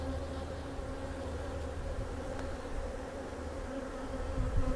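Honey bees at a double nuc hive, a dense, continuous low buzzing drone close by, steady throughout with no talking.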